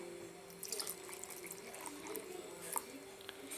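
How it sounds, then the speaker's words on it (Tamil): Half a glass of water poured into thick dosa batter made from ration shop rice, giving a soft close splashing trickle that runs steadily for a few seconds with no talking. "அதனால் நாங்கள் வந்து அரை கிளாஸ் தண்ணி கூட ஊற்றுறோம்"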